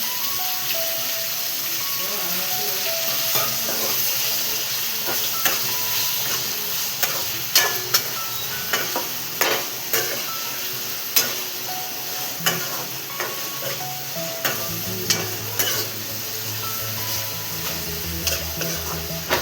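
Garlic, cluster beans, tomato and onion sizzle steadily in a hot pan while a spoon stirs through them, with repeated sharp scraping clicks and taps over a continuous frying hiss.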